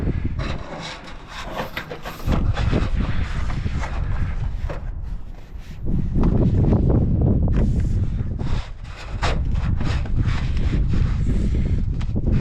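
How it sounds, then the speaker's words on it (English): Gusty wind blowing outdoors at a vinyl siding installation, a steady broadband rush that swells loud and buffets the microphone in strong surges, with faint rustling and handling noises. "kind of trying to fight the wind a little bit"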